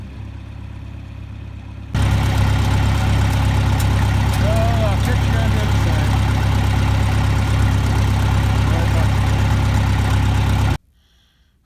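A farm tractor engine idles with a steady low rumble for about nine seconds, starting abruptly and cutting off near the end, while someone speaks briefly over it on a cold winter day of feeding cattle hay bales.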